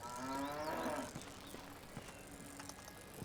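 A cow in The Bard's Tale video game lets out a single loud, drawn-out moo lasting about a second, followed by faint scattered taps and clip-clopping against a quiet background.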